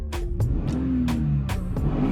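Engine of a Toyota Sienna van revving in a low, steady rumble with a rising pitch sweep, close by and alone, with a few sharp clicks or knocks punctuating the drone.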